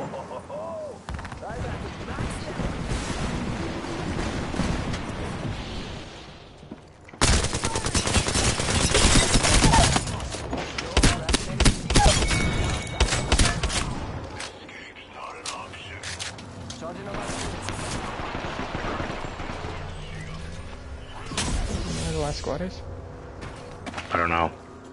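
Rapid pistol gunfire in a shooter game crackles in dense, loud bursts that start abruptly and keep going in clusters, with a player talking over the shots.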